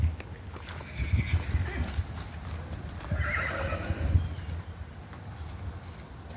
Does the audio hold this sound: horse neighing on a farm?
yes